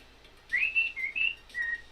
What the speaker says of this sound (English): there is a dialect of Spanish which is spoken entirely by whistling that sounds like birdsong